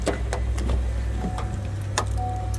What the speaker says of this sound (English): EX gives you automatic up and down windows for the front two windows.